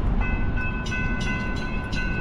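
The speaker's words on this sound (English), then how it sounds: "There's a train right now, it's about to come, so all the cars gonna be held up for a minute" A train rolls toward a road crossing in East St. Louis, where cars wait; a steady close rumble of rail wagons fills the clip, with faint sustained horn-like tones on top.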